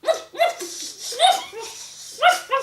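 A person imitates a barking dog with a string of short, sharp vocal yaps in quick bursts. The barks come close and clear, separated by brief pauses.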